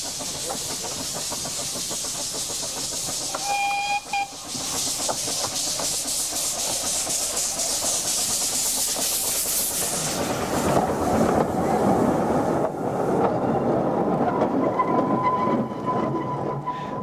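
An Isle of Man Railway steam train hauling rebuilt Groudle Glen coaches in 1993 gives a brief whistle, then a long, loud steam hiss that gives way to a rolling, rumbling run.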